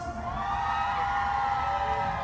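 A crowd at a Loy Krathong festival screams and cheers in a sustained, dense roar of high-pitched whoops, loud and continuous throughout.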